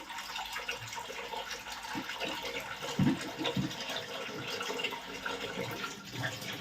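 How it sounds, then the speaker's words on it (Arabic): Water runs and splashes into a cooking pot for boiling rice, a soft continuous trickle with a few gurgling bursts, fairly faint against background noise. "هنحط فيه حبه ميه صغيرين اهو"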